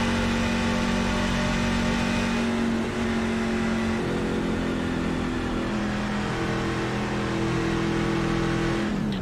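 A NASCAR race truck engine in the iRacing sim at Atlanta drones loud and steady at high revs throughout, with slight pitch shifts and no talk.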